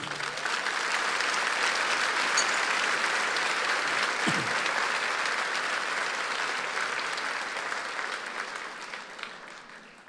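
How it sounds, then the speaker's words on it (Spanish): A church congregation applauds the Lord in a dense, sustained wash of clapping that holds steady for several seconds and slowly fades toward the end. "Vamos a dar un aplauso al Señor."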